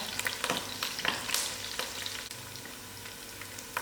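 Thyme, onions and curry leaves fry in a pan for a green jackfruit curry, a steady moderate sizzle broken by a few sharper spatters and stirring scrapes, with no one talking.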